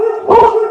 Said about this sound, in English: my dogs are barking because they heard your dog